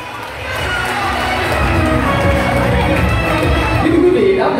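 Wedding reception guests applauding and cheering together, a loud, sustained wash of clapping and crowd noise that swells after the first half second and carries on throughout.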